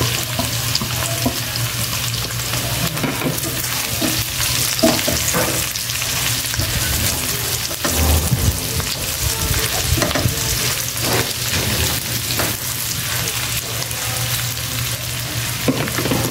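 Garlic and onions sauté in a pan for a braised pork adobo, a continuous loud frying sizzle with scattered stirring scrapes and clatter running throughout, no voices.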